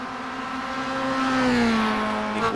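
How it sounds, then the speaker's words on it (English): A Mazda MX-5 race car's engine in a sim racing roadster series drones loud and steady, its pitch sliding slowly as revs change, with no voices over it. "just enjoy the sounds of this MX-5"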